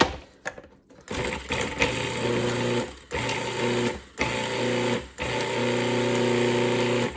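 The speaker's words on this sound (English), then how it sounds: "And I'm just gonna mix that for a second." Electric mixer whirring in bursts as light brown sugar is mixed for a shoofly pie, several short stops and restarts before a steady run.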